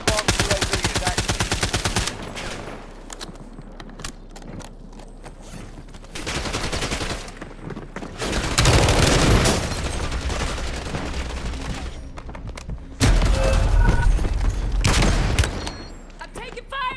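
Heavy, dense gunfire in a Call of Duty Black Ops 6 Warzone battle royale match on Verdansk, with sustained loud automatic bursts and booming shots coming in long waves, broken by brief quieter gaps.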